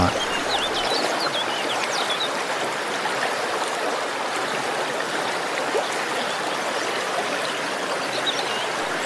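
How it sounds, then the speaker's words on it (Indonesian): The Cikapundung river in Bandung rushes steadily during the rainy season, a dense, even roar of flowing water heard close by for the whole stretch, with faint bird calls above it. "Karena sekarang masih musim hujan, debit air Sungai Cikapundung masih cukup banyak."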